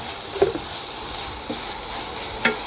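Onion and garlic sizzle steadily in a hot frying pan, a constant close hiss broken by a few soft stirring knocks, with no talking.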